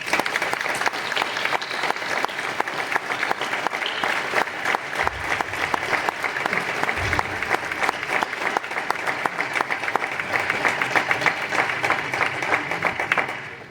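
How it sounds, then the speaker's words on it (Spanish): An audience gives a long round of steady, dense applause at a religious brotherhood's ceremony, many hands clapping evenly at full strength until it tapers off at the very end. "Un aplauso."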